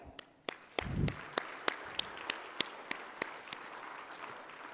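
Audience applause at a union gathering, thinning into a few scattered, distinct claps after an initial burst, moderately distant with no voices over it.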